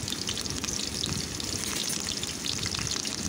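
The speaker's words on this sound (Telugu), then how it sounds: "మనం తరిగి పెట్టుకున్న ఉల్లిపాయ ముక్కల్ని, పచ్చిమిరకాయ ముక్కల్ని, కరివేపాకుని వేసుకొని ఒక్కసారి గరిటెతో మొత్తం కలిసే విధంగా ఆయిల్లో కలుపుకోవాలండి" Chopped onions, green chillies and curry leaves fry in oil with a dense, even crackling sizzle that holds steady throughout and sits close.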